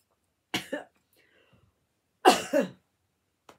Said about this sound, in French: j'ai l'impression que je vais vous tousser ça